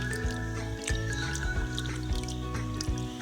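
Fresh water is poured for hens and other birds, a close liquid trickle with small drips and sloshes over a low steady background hum.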